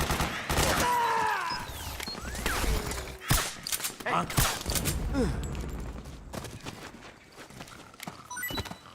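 A dense volley of gunfire from the video game Metal Gear Solid 4, with rapid overlapping shots and heavy thuds, mixed with shouting voices and game sound effects.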